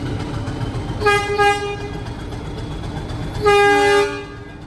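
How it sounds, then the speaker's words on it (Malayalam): A small five-compartment mountain train on the Ooty line sounds two loud horn toots, one short and one longer, over a low rumbling rail noise. "അഞ്ച് കമ്പാർട്ട്മെൻറ്റുകളുള്ള ഒരു കുഞ്ഞൻ ട്രെയിനാണിത്."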